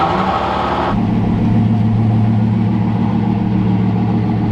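A Bugatti Veyron engine cold-starts and settles into a loud, steady idle. The deep, even drone holds close and alone, with an initial burst of higher noise at the start.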